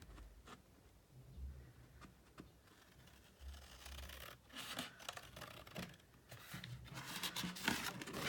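Scissors snipping paper while cutting a pop-up box card, a scattering of soft crisp cuts and rustles, close but quiet, with no talk.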